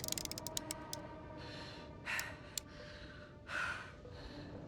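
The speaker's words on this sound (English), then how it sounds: "Can you stop panting like a dog?" Heavy rhythmic panting from a character in the sci-fi exploration game The Invincible, set on an alien planet; repeated breathy gasps and exhalations come in bursts over a steady ambient game background.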